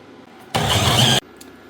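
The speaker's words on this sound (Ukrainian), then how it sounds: "Я все порізала і засипаю в блендер." A blender whirs loudly for about half a second in a single short burst, then cuts off into quiet, chopping ingredients for a fish cake paste.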